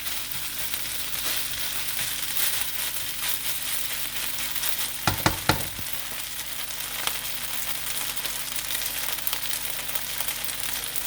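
Steady, crackling sizzle of chicken fried rice frying in a hot pan, continuous throughout, with a few sharp scrapes or clatters near the middle.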